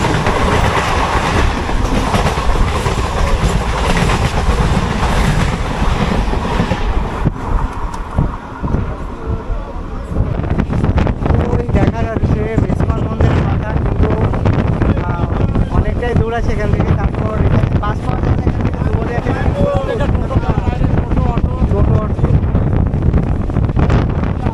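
A local passenger train rolls along the Lalgola to Ranaghat line, heard from inside the carriage with a constant rumble, wind buffeting and rhythmic clickety-clack over the rails, while passengers' voices murmur in the crowded coach.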